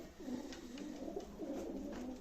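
Pigeons at an open-air bird market coo in soft, repeated low rolling calls that overlap steadily and sit close and clear over a faint ambient hum.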